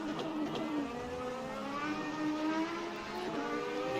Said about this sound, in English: You hear both engines now in the same shot.